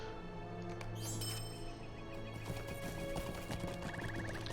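A swift horse's hooves in the fantasy online game LOTRO clip-clop faintly in a quick, even rhythm, mixed under a soft musical and ambient backdrop.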